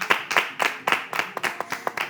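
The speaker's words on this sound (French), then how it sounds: "Je pense que ça s'applaudit quand même." A few people clap in a slow, even rhythm on a French-language television show, roughly eight distinct claps in two seconds, close and fairly clear, with no voices over them.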